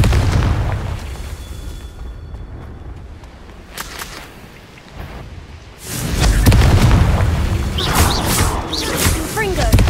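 Confringo fire spells exploding in combat in the game Hogwarts Legacy, with booming blasts and crackling bursts that swell to a loud, sustained roar of repeated impacts after a quieter stretch, over game effects and a voice.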